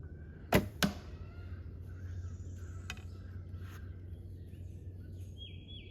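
Two sharp, quick snaps ring out as arrows leave a Das ILF longbow fitted with limbs on a 19-inch T-bow riser, close and crisp outdoors over a low hum and faint birdsong.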